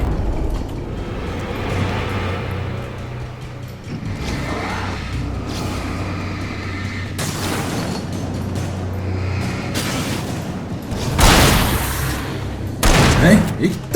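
Gunfire in the video game Alan Wake, several sharp broadband bursts cracking out late over a steady rumbling game soundscape, with a player talking throughout.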